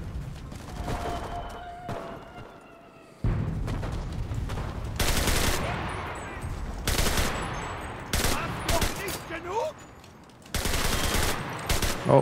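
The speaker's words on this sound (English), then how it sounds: "A load of shooting this way." Bursts of machine-gun fire rattle close by in the WWII shooter Enlisted, loud clustered volleys separated by short lulls, with a player talking faintly in between.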